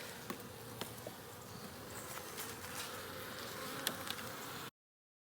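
Honeybees hum in a continuous close buzz around an open hive during a winter hive check with smoke, with faint scattered ticks and taps beneath the swarm's drone.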